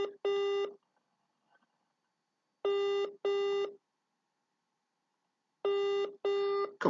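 A telephone ringback tone sounds while a call waits for an answer: three loud pairs of steady electronic rings, evenly spaced with quiet gaps between them, and no voices.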